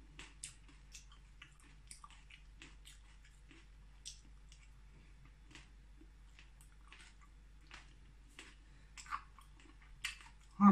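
Crunchy raw instant noodle salad with fermented pork sausage is chewed close up in soft, irregular crunching and squishing bites over near silence, with a louder clatter at the very end.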